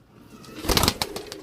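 Pigeons coo briefly and close by in a short burst, along with a few sharp rustling or flapping sounds.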